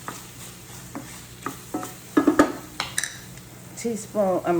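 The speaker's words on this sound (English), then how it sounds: "I'm going to stir my onions right quick." Onions frying in a pan and being stirred, with scraping utensil strokes over a soft sizzle and a few louder clatters toward the end.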